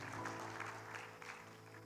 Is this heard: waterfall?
no